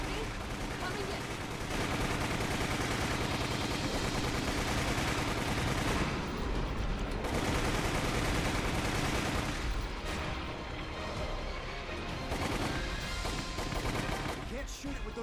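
Rapid gunfire from the Resident Evil video game, dense sustained bursts like automatic weapon fire filling the scene, loud and continuous with short breaks.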